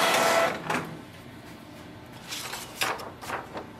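A Canon PIXMA G3270 inkjet printer running a nozzle check print, giving a soft whir followed by several brief mechanical swishes and clicks as the carriage moves and paper feeds.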